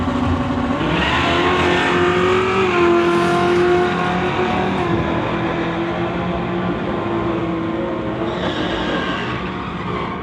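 Drag race cars, including a 1989 Ford Mustang, launch and roar down a street-legal strip. Loud, sustained engine tones rise in pitch through the gears, then a second engine note joins later and fades out.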